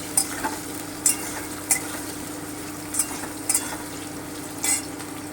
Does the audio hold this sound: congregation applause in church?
no